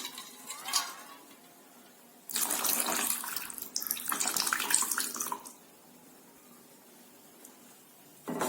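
Water poured into a simmering curry, a brief splash followed by a loud, steady gush lasting about three seconds, then quieter after the pour stops.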